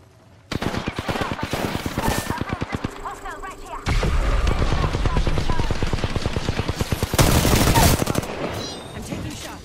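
Rapid automatic gunfire in Apex Legends, loud and close in long rattling strings with brief pauses, a heavier burst near the end, and short in-game voice callouts in between.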